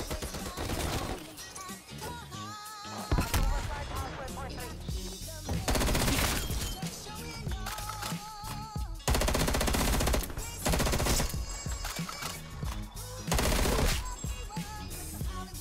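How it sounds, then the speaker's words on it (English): Rapid automatic gunfire in Call of Duty: Black Ops Cold War, with dense bursts from an FFAR 1 rifle and other weapons rattling almost continuously over game music, loud and close with brief pauses between volleys. "They're really shooting."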